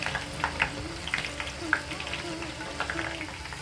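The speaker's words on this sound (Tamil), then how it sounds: "இப்போ கொஞ்சம் கொஞ்சமாக எண்ணெயில் பொரிக்கிற அளவுக்கு போட்டுக்கணும்." Moong dal fries in hot oil for a crispy snack, giving a steady close crackling sizzle with occasional stirring clinks.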